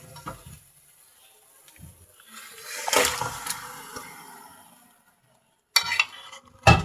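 Marinated mutton drops into a pan of fried onions and sizzles loudly in bursts, with stirring scrapes and a hiss that fades before sharp clanks of the pan near the end.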